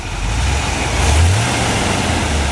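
A stock 1975 Chevrolet Corvette V8 with no headers or custom exhaust runs close by, a steady engine rumble with a brief swell partway through, and no talking.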